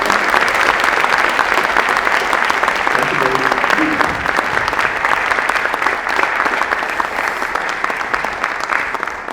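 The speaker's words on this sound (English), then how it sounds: "Give him a round of applause." An audience applauding a guest speaker at an evening talk, dense sustained clapping from a large crowd that fills the room at a steady loud level, with a brief voice heard faintly beneath it.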